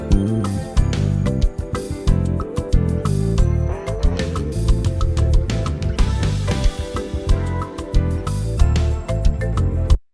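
Dry, unprocessed bass guitar plays a steady groove inside a full band mix with drums, loud and continuous for about ten seconds with no talking.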